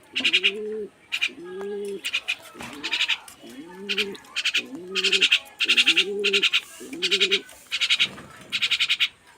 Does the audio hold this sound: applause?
no